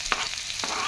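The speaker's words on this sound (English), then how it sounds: "Give it a good stir fry again" Mushrooms and garden chives stir-fry for spring rolls, a continuous hiss of sizzling with two quick stirring scrapes over less than a second, close and moderately loud.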